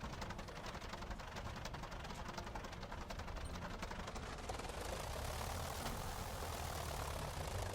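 In the MSFS 2020 flight game, a Sopwith Camel biplane's engine drones steadily while taxiing, a dense, loud, continuous rumble with a faint rhythmic propeller chop that swells slightly toward the end.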